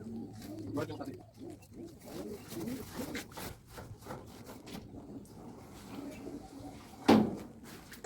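Pigeons coo softly now and then in their rain-soaked loft amid rustling and shuffling movement, with a voice speaking nearby.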